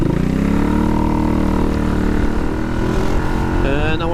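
A Royal Alloy scooter engine idles steadily while warming up, a continuous close, loud hum with a faint voice murmuring underneath.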